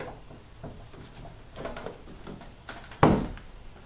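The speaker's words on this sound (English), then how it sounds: "it's simply a question of swinging the door into place." A wooden door is swung onto its hinges while being rehung after trimming. Soft, quiet handling rustles lead to a single dull knock near the end.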